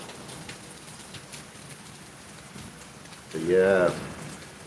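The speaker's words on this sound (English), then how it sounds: "It is raining cats and dogs, as we say." Heavy rain pouring down in a constant soft hiss, with a voice speaking briefly near the end.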